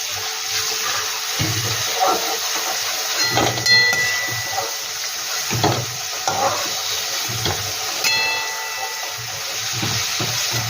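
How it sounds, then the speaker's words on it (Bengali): Prawns frying in a pan, giving off a steady broad hiss and spitting sizzle up close, with occasional clinks and stirring scrapes. "এবার বললাম চিংড়ি মাছটা তুলে দেবো।"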